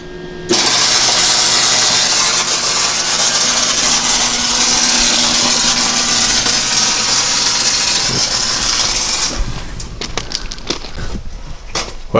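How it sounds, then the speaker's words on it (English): A wire-feed welder joins small metal brackets to a plate on a G20 van, giving a loud, steady crackling hiss for several seconds before it cuts off into a few scattered clicks and taps. "just making little brackets like this, weld them to the plate there"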